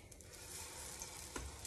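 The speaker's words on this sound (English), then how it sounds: "Let's flip the pancake." A pancake sizzles steadily in a hot pan, a soft continuous frying hiss with a brief louder scrape or thump near the end as it is turned, no talking.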